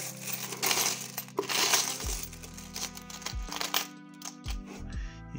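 Metal coins from a 13-kilogram world-coin lot clink and rattle as they are sorted by hand, bright jingling clatter broken by several sharp drops and knocks, with no talk.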